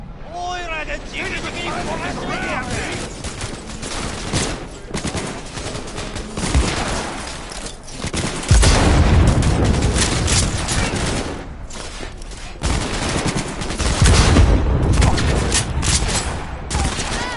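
Grenade explosions and gunfire erupt in a PlayStation 4 video game, with loud bursts and rattling volleys that come in waves and peak in heavy blasts, while voices are heard over the battle.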